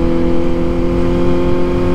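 Motorcycles ride by during Laconia Bike Week in New Hampshire, giving a loud, steady engine roar with a continuous droning hum and no break across the stretch.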